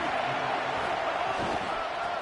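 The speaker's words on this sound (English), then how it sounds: "This crowd ready to make its presence known." Stadium crowd in a college football video game roars as a steady, dense wash of cheering and noise, loud and continuous throughout.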